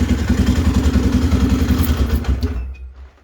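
A Polaris Sportsman 500 ATV engine idles close by with a loud, rapid throbbing putter that cuts off abruptly near the end, leaving near silence.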